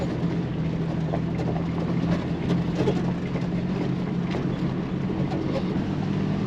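A lifted Jeep with a Rough Country 2.5-inch lift kit climbs a dirt road up Iron Mountain in first gear, its steady engine drone and road rumble running loud and constant throughout.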